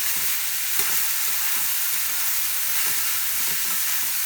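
Bottle gourd fries with salt and turmeric while being stirred in a pan, giving a loud, continuous close-up sizzle with faint scraping strokes and no talking.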